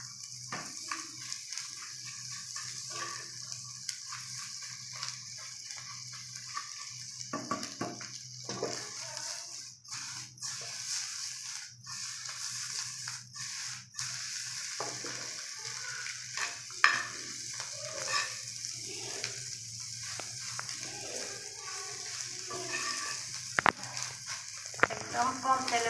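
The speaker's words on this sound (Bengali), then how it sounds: "এগুলোকে একদম লাল লাল করে ভেজে নিতে হবে।" Egg bread balls fry in a pan with very little oil, producing a continuous soft sizzle with occasional clinks and scrapes of stirring over a long stretch.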